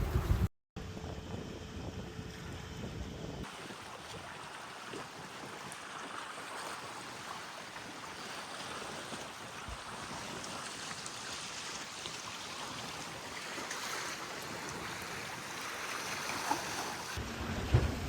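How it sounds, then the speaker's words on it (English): A sailboat motors straight upwind, with a broad steady rush of wind and water against the hull and wind buffeting the microphone. "I motored the last bit because it's going to be straight upwind."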